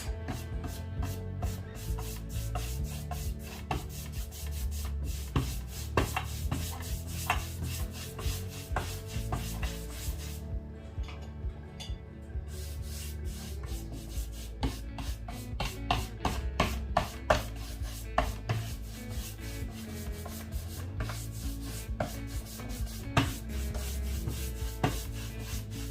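A new coat of wax is rubbed by hand onto a smooth wood finish, a continuous soft scuffing with steady back-and-forth strokes and occasional light knocks, close and quiet, with no talk.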